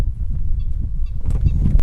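Ducks and waterbirds, including red-billed ducks and teals near black-winged stilts at a Botswana wetland, give honking, goose-like calls that carry on steadily over a low rumbling background, with no talking.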